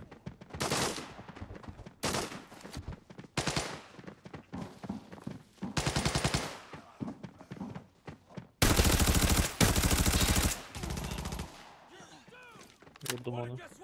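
Gunfire in the shooter game Arena Breakout comes as repeated loud bursts of rapid shots, the longest near the end, separated by quieter gaps with occasional talk.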